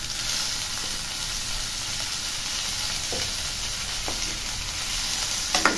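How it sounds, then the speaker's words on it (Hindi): Chopped tomato fries with browned onions in a pan, making a steady, close sizzle with occasional stirring scrapes toward the end. "टमाटर को भी हम लोग अच्छी तरह से भून लेंगे।"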